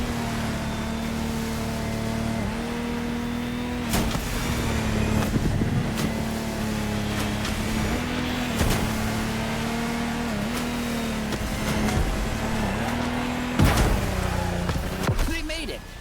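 Lamborghini Tecnomar speedboat engines roaring steadily as the boats race across open water, a loud sustained drone with rising revs and sharp surges, heard alongside an announcer at a festival event.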